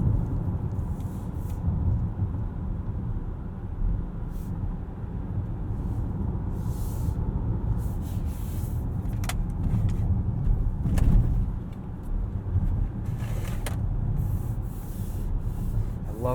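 Cabin sound from a 2018 Volvo XC60 T8 plug-in hybrid driving in Eco mode with brake regeneration: a steady low road rumble and tyre hum, quiet and smooth, with a few faint creaks and ticks inside the car.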